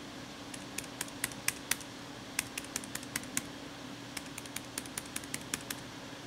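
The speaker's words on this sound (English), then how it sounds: "So quick keyboard test." Quick bursts of key clicks tapping in irregular runs, close up, over a steady loud whir of maxed-out cooling fans in a gaming PC built from AliExpress parts.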